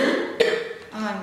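A single short, abrupt cough bursts out amid quiet vocal sounds from a young woman, close to the microphone.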